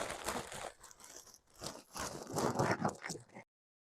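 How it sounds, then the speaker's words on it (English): Tortilla chips being crushed into smaller pieces for an easy Mexican ground beef dish, giving dense, continuous crunching and crackling that comes in two close bursts with a short pause between, loud and near, with no talk. "We're just going to give them a nice kind of crunch so they're smaller."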